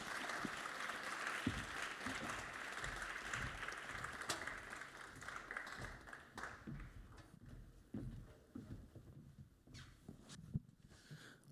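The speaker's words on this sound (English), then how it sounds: "please give all of them a very warm round of applause" Applause from an audience at an opera prep panel as the creative team for Rigoletto walks to the stage, a fairly distant, faint clatter of clapping that thins out midway, leaving scattered claps and footsteps.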